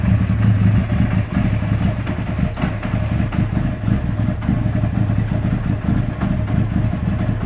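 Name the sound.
Honda Fireblade motorcycle engine running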